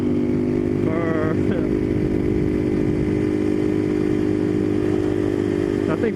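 A motorcycle carrying two riders drones loudly and steadily nearby with a constant engine hum and rumble, a brief tonal whine near the start, under wind and road noise.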